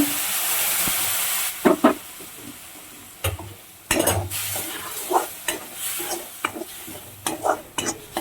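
Milk poured into a hot flour mixture in a pan for a Gujarati thali dish, hissing loudly at first, then giving way to bursts of stirring and scraping with a spoon, close and clear.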